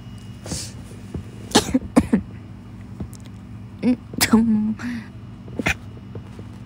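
Several harsh coughs in short bursts, close up, with brief pauses and a throaty, strained cough in the middle.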